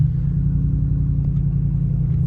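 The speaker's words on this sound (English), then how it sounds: "I'm gonna let y'all hear the car." An Audi S8 with a turbo engine and full bolt-on modifications idling loudly, a deep steady low-pitched rumble heard close and alone.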